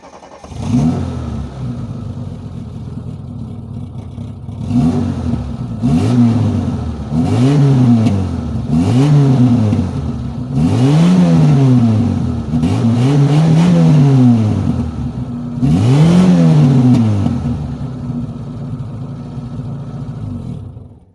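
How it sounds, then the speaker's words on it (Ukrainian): ZAZ Tavria car with a new Bosal muffler, its exhaust rising and falling through about six repeated revs while idling between them, close and fairly loud with no talk over it. "я продемонструю, як же звучить даний вихлоп"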